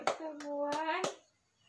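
Group clapping routine, the PKH clap, at a women's savings meeting: four sharp, evenly spaced hand claps over a drawn-out chanted voice, then quiet.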